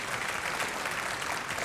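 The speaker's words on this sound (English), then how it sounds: "let's give them a round of applause and thank them." Audience at a high school end-of-year music concert applauding in a steady, faint wash of clapping heard from a distance, with no talking.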